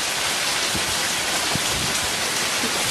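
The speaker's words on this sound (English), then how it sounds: "It is raining like crazy." Heavy rain pours steadily around a porch, a dense continuous hiss of drops close by with a few louder splats standing out, no voices.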